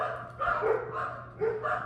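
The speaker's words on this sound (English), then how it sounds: "my dogs are going crazy over something" Several dogs barking indoors in a few short bursts, moderately close, with overlapping yips and barks and no talking.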